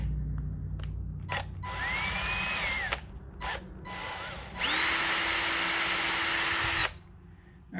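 Power drill with a 1/4 inch bit boring a hole for a bow mount, running in loud close bursts of whining motor that rise and fall, separated by short pauses and clicks.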